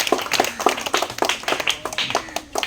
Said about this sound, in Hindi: चलो इसके थोड़ा सा ज़रा लंबा ताली बजाओ